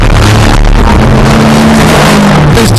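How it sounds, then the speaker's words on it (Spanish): A turbocharged modern car engine roars loudly and close, revving hard with rising and falling pitch over a few seconds, no voices over it. "Este coche es mucho más rápido que el de Marcel Renault, pero lleva un turbocompresor"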